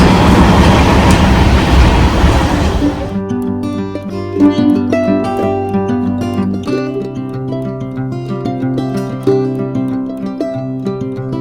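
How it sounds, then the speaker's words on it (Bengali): A delayed passenger train pulls out of a railway station in India. A dense burst of rumbling noise gives way to steady rolling wheel clatter and sustained tonal hum, fairly loud and close, with no voices. "Train departed."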